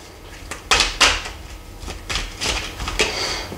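Oracle cards handled close by as they are shuffled and cut: several sharp slaps and riffling swishes in an irregular rhythm, with softer sliding sounds between them.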